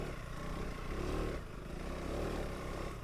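KTM 390 Adventure R single-cylinder motorcycle ridden off-road in second gear, its engine droning steadily with gentle rises and falls in revs, close and loud, with rough rumbling underneath and no talk.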